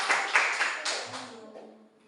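A classroom gives a short burst of clapping during a lesson. Several quick claps come in the first second, fade out fast, and are followed by quiet murmuring.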